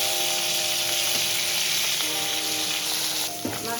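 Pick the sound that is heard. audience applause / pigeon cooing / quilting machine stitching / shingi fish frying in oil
shingi fish frying in oil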